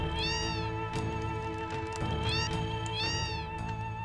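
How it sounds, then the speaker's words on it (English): A cat meows in a video game, giving several loud, drawn-out, wavering meows over steady background music, with no talking. "oh my gosh, cat."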